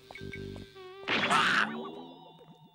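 Bees in a Hello Kitty Puss in Boots game buzz in a loud, swelling drone that rises sharply, holds for a moment, then fades, with tonal background sounds around it.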